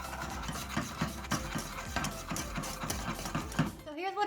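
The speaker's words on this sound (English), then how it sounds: "and I'm just gonna whisk it in." A whisk stirs xanthan gum into a dairy-free mozzarella mixture in a bowl, giving quick, steady, rhythmic scraping strokes at close range.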